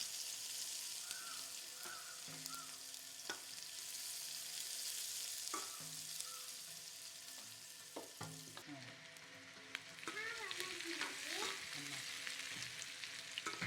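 Curry leaves and onions sauté in a pan for a lady's finger gravy, giving a soft, steady sizzle with occasional utensil clinks and scrapes, fairly quiet and continuous.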